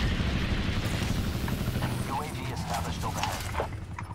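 An attack chopper in Call of Duty: Black Ops 4 churns with a steady rotor drone and mechanical rumble amid battle noise, while voices talk faintly over it.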